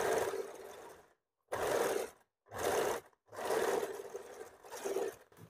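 A sewing machine stitches the side seams of a blouse in four or five loud, whirring bursts separated by short silent pauses.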